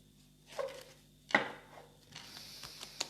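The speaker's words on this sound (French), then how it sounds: "On va mélanger." A new, stiff deck of tarot cards being shuffled by hand, a few quiet soft slaps and a short riffle heard close up in a quiet room, with no voices.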